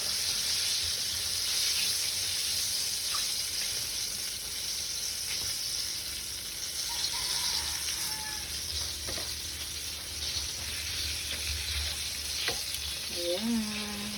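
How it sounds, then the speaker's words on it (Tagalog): Chicken fries steadily in a pan, a dense continuous sizzle and crackle filling the whole stretch, with faint clinks and a brief tap-water sound near the end. "Pagyan natin yung huli ng chicken."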